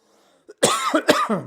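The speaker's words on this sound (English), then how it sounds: "Pardon me for my coughing" A brief wheeze, then a burst of several close, harsh coughs in quick succession, heard alone.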